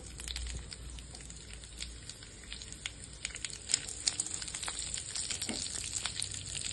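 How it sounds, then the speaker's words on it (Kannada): Whole garam masala spices, including cinnamon, cloves, fennel and cumin, frying in a couple of spoons of hot oil on a stove, a steady soft sizzle with small popping crackles scattered throughout. "2 ಸ್ಪೂನಷ್ಟು ಎಣ್ಣೆ ಹಾಕ್ಕೊಳ್ಳೋಣ. ಈ ಗರಂ ಮಸಾಲೆಗಳೆಲ್ಲ ಹಾಕ್ಕೊಳ್ಳೋಣ."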